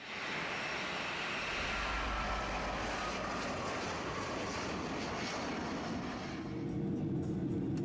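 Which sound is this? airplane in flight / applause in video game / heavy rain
airplane in flight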